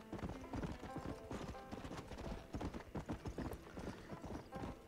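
A horse's hooves clip-clop through desert terrain in the video game Red Dead, a quick, uneven run of close hoofbeats with a brief whinny, mostly without talk.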